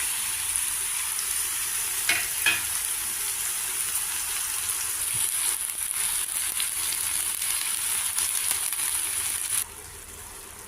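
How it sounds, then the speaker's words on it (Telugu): Pieces of ridge gourd with green chilies cooking in a pan, a steady hiss and sizzle with a couple of faint stirring scrapes early on, close and even in level, with no voices. "ఈ ముక్కలు కూడా మనం మగ్గించుకోవాలి పచ్చివాసన పోయేదాకా మగ్గించుకోవాలి"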